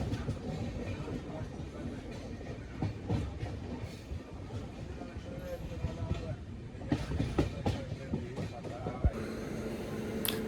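A train pulls into Trivandrum Central station, heard from on board with a steady rumbling roll and clattering wheel noise, a few louder knocks and bursts, and voices talking over it.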